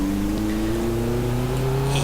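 A retro race car with twin SU carburetors in the racing game Race 07 drones loudly and steadily, its engine note rising slowly as it holds revs, close and alone without talk.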